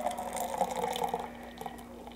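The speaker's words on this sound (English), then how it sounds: "I'm just going to open this up and I am going to just pour into my" Homemade ginger beer poured into a cup, giving a steady close liquid gurgle and fizz for about a second and a quarter before it settles into quieter trickling and drips.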